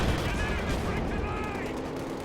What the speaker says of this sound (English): The Irishmen are firing against the Grenadiers.